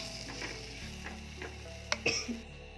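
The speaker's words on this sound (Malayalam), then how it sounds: "അതും ഇതിനോടൊപ്പം നന്നായിട്ടൊന്ന് മിക്സ് ചെയ്ത് ചേർക്കണം." Ground pepper paste is stirred into a sizzling fish curry masala in a pan. A steady, soft frying hiss runs under light utensil ticks, with a couple of louder knocks near the end.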